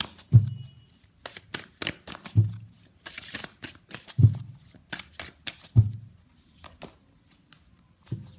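Tarot cards shuffled by hand in a steady series of riffling bursts, each opening with a soft thump, close and fairly loud with no talking.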